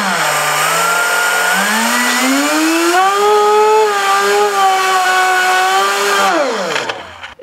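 A 12,000 RPM air turbine driven at 60 PSI gives a loud, piercing tonal whine that climbs steadily in pitch as it spins up, holds a high wavering scream, then drops away sharply at the end.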